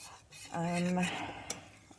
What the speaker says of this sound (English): I'm going to stir clockwise.